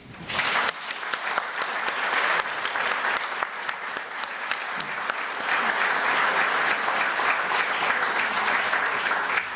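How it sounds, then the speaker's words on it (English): An audience applauding a conference panel at a closing keynote, a dense wash of clapping that holds at full strength for the whole stretch. "can you give your panel a big round of applause, please?"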